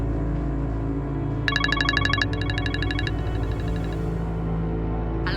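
A telephone rings in a tense domestic scene, a clear electronic trill in two rapid pulsed bursts over a steady background bed of music or room tone, with no talking.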